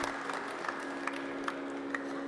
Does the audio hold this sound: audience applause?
yes